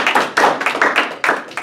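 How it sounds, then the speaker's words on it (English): A small university lecture class applauds: a few hands clapping in uneven bursts, close by and moderately loud, with no talking. "let's give him a round of applause"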